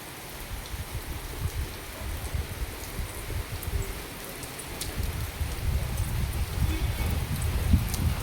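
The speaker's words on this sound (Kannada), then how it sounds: "ಮಧ್ಯಾಹ್ನನೇ ಮಳೆ ಬರ್ತಿದೆ ನೋಡಿ." Afternoon rain falls steadily on surfaces nearby, a continuous patter with scattered droplet hits at moderate level.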